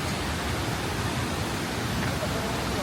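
Agua Azul waterfall roars in a steady, dense rush of falling water that fills the whole stretch at constant loudness, with no clear voices over it.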